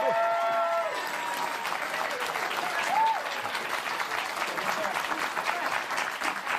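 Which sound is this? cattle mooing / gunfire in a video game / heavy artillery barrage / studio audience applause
studio audience applause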